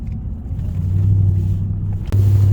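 Mercedes W211 E63 AMG V8 engine droning steadily from inside the car as it drives, a low loud rumble that swells briefly after two seconds as the throttle opens.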